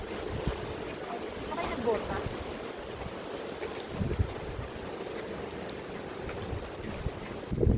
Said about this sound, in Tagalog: Lakas ng hangin, maambon.